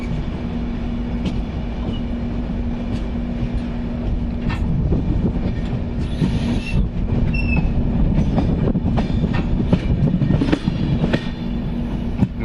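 A Konkan Railway train pulls into Ratnagiri station. Steady, loud rolling rumble and clickety-clack of the wheels, with a sustained squeal and brief metallic screeches, heard from on board with no talk.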